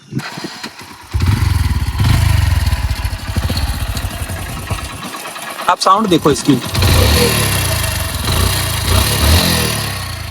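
A motorcycle engine running on E20 petrol starts and settles into a rough idle with a rapid, uneven knocking beneath it, while someone speaks briefly over the engine.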